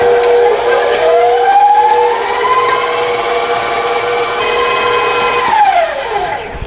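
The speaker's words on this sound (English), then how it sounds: "I'm just going to blend the lemon and the Sauvignon Blanc." Blender whirring as it mixes lemon and Sauvignon Blanc into compound herb butter, a loud continuous motor whine that rises in pitch, holds steady, then drops as it slows near the end.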